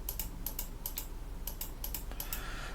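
Typing on a computer keyboard while working on an Arch-based Linux system: a brisk, steady run of light key clicks in small clustered bursts, close and moderately loud, with no voices.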